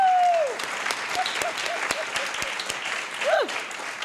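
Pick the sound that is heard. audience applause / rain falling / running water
audience applause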